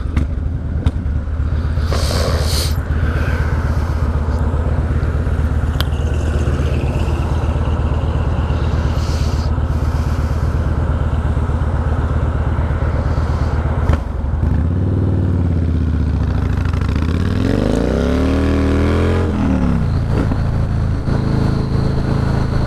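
A 2006 Yamaha Warrior muscle motorcycle rumbles loudly up close, its heavy engine revving and pulling hard through gears with a deep, throaty roar and a sharp rise in pitch near the end.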